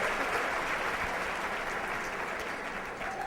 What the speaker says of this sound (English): The clapping.